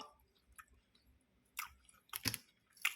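Close, crisp crunching and chewing of fried, lightly salted red claw crayfish, coming in irregular bites with short quiet gaps and no talking.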